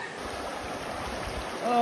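A river flows in a steady, soft rush of running water that stays constant throughout, with a faint tonal whine near the end.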